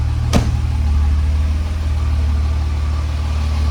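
A 1969 Mercedes-Benz 280SL inline-six runs at a steady, close, loud idle as the car pulls out, with a brief sharp click near the start and a low rumble throughout.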